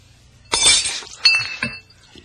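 A glass of water is dropped and shatters: a sharp crash, then a second burst of clinking shards, close and loud with no talk over it.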